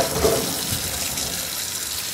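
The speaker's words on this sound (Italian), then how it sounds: "mette un po' di acqua fredda per bloccare la cottura" Cold tap water runs and splashes steadily over freshly cooked beans in a kitchen, a continuous close hiss with no talking.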